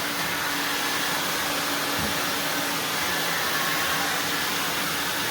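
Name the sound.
Prolux CTX vacuum cleaner running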